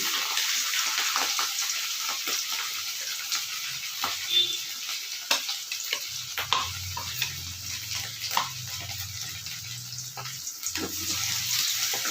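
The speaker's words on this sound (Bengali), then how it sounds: "তোমরা ওইটা আস্তে আস্তে দেবে, আস্তে আস্তে ভাজবে। প্রচণ্ড পরিমাণে ফাটে এই মাছ।" Pangas fish fries in hot oil with a loud, constant sizzle close by, broken by sharp pops and spattering crackles scattered throughout.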